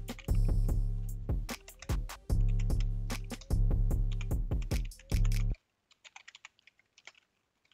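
Close, loud clattering keystrokes on a computer keyboard in quick irregular bursts for about five seconds, then a few softer scattered taps.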